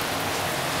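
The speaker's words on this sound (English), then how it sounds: "Ooh, it's a lot of rain." Heavy rain pours down in a steady, dense hiss, loud and continuous throughout with no voices over it.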